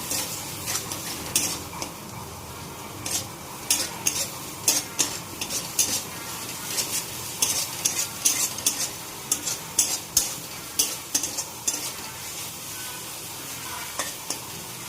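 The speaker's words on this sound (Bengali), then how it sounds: "একটু জিরা দিয়ে দিলাম। এবার এটা নাড়াচাড়া করে নেব।" Cumin and turmeric fry in a pan with a soft sizzle while a metal spatula repeatedly scrapes and clinks against the pan in quick irregular bursts, close up, with no talking.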